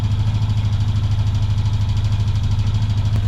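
A turbocharged Honda Pioneer 500 UTV engine fitted with a one-step colder spark plug runs steadily, a loud close throbbing idle with an even, rapid pulse and no talking.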